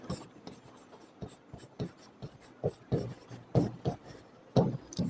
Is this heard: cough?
no